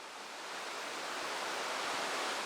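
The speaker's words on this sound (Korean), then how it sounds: "선불동 계곡은 시원한 물소리에 숲속의 바람소리가 더해져" A mountain valley stream at Seoraksan flows in a steady, broad rush of water, moderately loud and continuous with no voices, swelling slightly toward the end.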